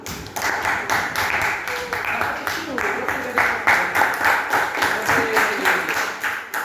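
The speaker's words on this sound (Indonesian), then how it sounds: "Oke, kasih aplaus dulu." A classroom of students claps together steadily for several seconds, dense and even, with the rapid overlapping hand claps of a group applause that fills the room.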